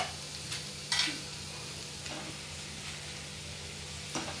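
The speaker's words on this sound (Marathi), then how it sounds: "आता आपण हे खेकडे यात घालूया।" Crabs go into a pan of oil-roasted masala: a few scattered clatters and knocks over a faint, low sizzle, quiet and close.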